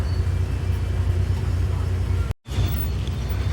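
Constant low rumble of idling vehicles and road traffic waiting at a railway gate on a bus journey from Erode to Tiruchendur, fairly close and loud, with a brief dropout in the middle before the rumble resumes.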